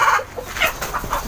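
A hen clucking close by in a short burst of three or four quick, throaty clucks, loud and alone.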